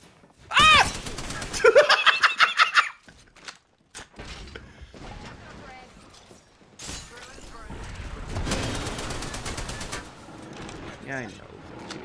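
Enemy gunfire in a video game: bursts of rapid shots and mechanical clatter come early, then rougher, sustained noise follows, with voices talking over parts of it.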